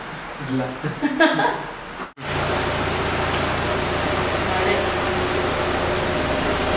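Steady heavy rain pours down after a brief stretch of people talking, then continues as an even, close hiss of drops on surfaces.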